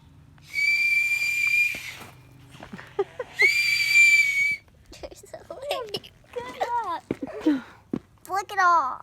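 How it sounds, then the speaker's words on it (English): A whistle gives two long, loud shrill blasts, each lasting about a second, followed by excited children's chatter and squeals, with further short whistle toots among the voices. "Victory whistle."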